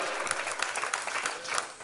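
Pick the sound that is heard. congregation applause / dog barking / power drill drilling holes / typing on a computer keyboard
congregation applause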